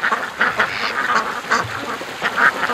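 Ducks quack in an agitated, overlapping chorus at a lake, calls bursting in rapid uneven clusters at close range and fairly loud throughout.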